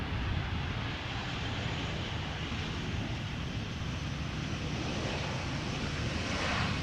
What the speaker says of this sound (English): Transavia 737-800 arriving from Olbia